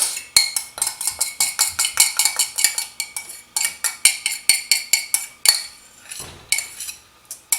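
A metal utensil scrapes and clinks rapidly against a pot while melted Velveeta cheese is cleared out for homemade broccoli cheddar soup, giving a fast, loud, rhythmic series of close scraping strokes.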